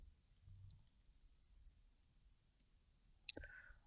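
Keyboard key presses at a computer during 3D modeling work in Blender, a few sharp, faint clicks, two close together early and another later, over a quiet room hum.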